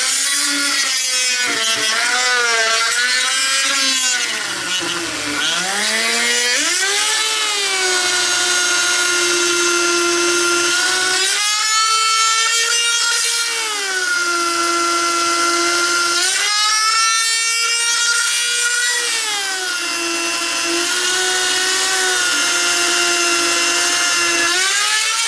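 A power tool cuts the inside diameter of a ring from 1/2 inch HDPE sheet, giving a loud, sustained high whine that dips and rises in pitch as the blade bites and eases through the plastic.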